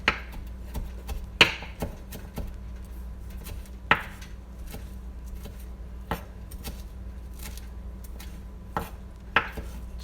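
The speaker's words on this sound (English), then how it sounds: "chop it up" A knife chopping fresh home-grown recao (culantro) on a cutting board, sharp isolated thuds at irregular intervals over a steady low hum, close and fairly loud.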